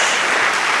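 A congregation at a church service gives a short burst of applause for Jesus, a dense, even clatter of many hands that fills the space.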